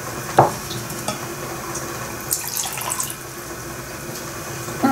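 About 50 ml of warm water is poured into a bowl for gingerbread dough from a boxed kit, a steady close trickle lasting several seconds with a couple of light clinks.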